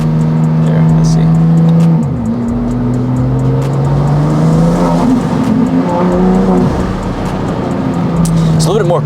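A BMW G87 M2 fitted with titanium intakes revs loud and close, its engine tone holding steady then dropping and climbing again in repeated pulls, with some talk mixed in under the heavy exhaust drone.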